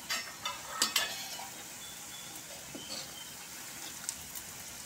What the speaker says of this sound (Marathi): ह्या पद्धतीनं असं लालसर तळून काढायचं, म्हणजे आतपर्यंत ते शिजलं जाते